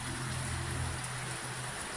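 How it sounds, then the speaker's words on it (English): Rain pours steadily into a backyard swimming pool, a dense continuous hiss and patter close by with a low rumble underneath, unbroken and even throughout. "The pool's getting full of water with the rain."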